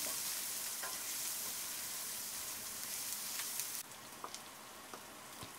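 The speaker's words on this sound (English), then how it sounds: "Then add the crushed ginger and garlic into the pan and give them a stir" Crushed ginger and garlic frying with black cumin in a pan, a bright, rain-like hiss of sizzling oil with occasional stirring taps, dropping suddenly quieter partway through.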